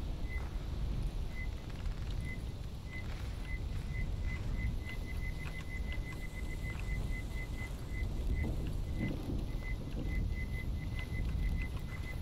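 Steady rain hisses through a stormy outdoor scene in the video game STALKER EFP, with a string of faint high electronic pips ticking over the downpour and no voices.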